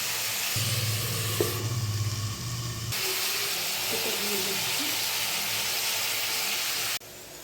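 Radish and shrimp fry under a lid in a covered pan, a continuous close sizzling hiss with occasional faint clinks that carries on unbroken, with no one talking.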